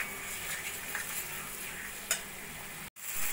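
Diced capsicum and pre-fried potatoes stir-fried with spices in a pan, giving a steady close hiss of frying with light stirring and a brief scrape near the end.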